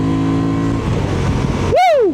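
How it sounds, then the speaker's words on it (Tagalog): A Honda Transalp 750 motorcycle engine holds a loud steady drone close by, then swells into a sharp rising rev that peaks and falls away near the end. "nagagalit yung makina oh."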